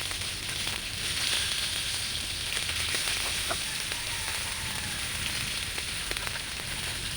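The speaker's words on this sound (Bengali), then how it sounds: "তো মাছগুলো দিয়ে আমি উল্টে পাল্টে নিয়ে ভালোভাবে একটু ভেজে নেব।" Hilsa fish pieces frying in a little oil in a nonstick pan, a steady moderate sizzle with faint crackles and pops, close up and without talk.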